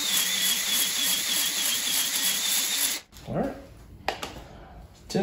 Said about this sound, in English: So I'm probably gonna hone it a little more.